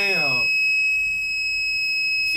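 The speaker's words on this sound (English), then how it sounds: "you can see that the buzzer is making a sound" The buzzer of a hand-gesture theremin project sounds a steady, piercing high-pitched electronic tone from start to finish, with a voice heard briefly at the opening.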